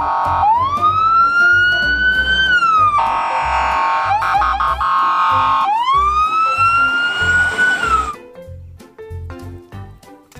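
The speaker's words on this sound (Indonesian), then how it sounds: "Wow, ini mobil pemadam kebakaran." A toy fire truck's loud electronic siren wails up and down in repeated rising sweeps, broken by a short stuttering electronic burst, then fades into clicks and handling noise.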